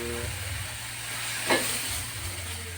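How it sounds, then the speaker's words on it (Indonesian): Candlenut and turmeric spices sautéed in a pan, a steady close frying sizzle with a low background hum and a brief stir or scrape in the middle. "Ya, kita tumis sampai harum."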